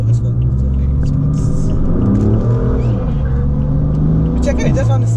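BMW M3 engine drones loud and close with a deep rumble, pitch rising and falling as it drives, while people talk over it.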